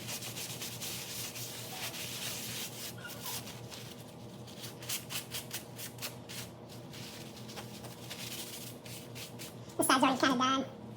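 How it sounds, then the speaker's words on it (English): A gloved hand rubs finish into the wood of a handmade wooden hat stand, giving a soft, continuous close-up rubbing and swishing. It ends in a louder, scraping burst. "Put some on here and just rub it in."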